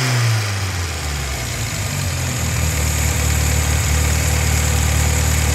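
An Alfa Romeo car engine runs close by at a steady, rumbling idle after a brief dip in revs, holding an even throaty drone with a faint mechanical buzz on top.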